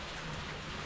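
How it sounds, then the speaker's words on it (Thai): Steady rain falls outdoors in a rural village, an even wash of drops hissing on surfaces with no voices over it. "ตอนนี้ฝนยังตกเลยทุกคนเห็นบ่"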